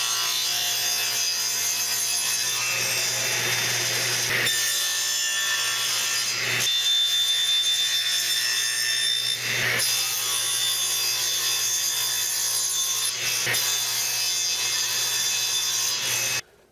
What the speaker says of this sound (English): I'm going to trim this edge off and then trim two more pieces